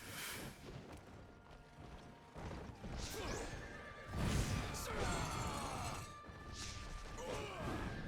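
In the Wo Long boss fight against Lu Bu, a war horse whinnies and charges with heavy crashing impacts, clattering hooves and metallic combat clanks, loud and chaotic with no speech.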